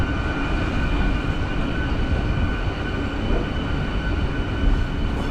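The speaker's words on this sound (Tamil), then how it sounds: "கூட்ஸ் ட்ரெயின் ஆக்சுவலாக." A goods train rolls past close by, a dense, steady rumble of heavy wagons on the rails holding at the same loudness throughout, with no voices.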